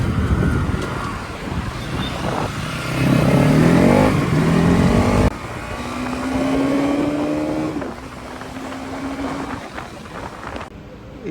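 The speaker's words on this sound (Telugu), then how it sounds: "ట్రాఫిక్ మాత్రం చాలా ఘోరంగా ఉంది" Heavy road traffic near a Bajaj and KTM service centre, with motorbike and car engines revving and passing close by, rising and falling under steady wind buffeting on the microphone.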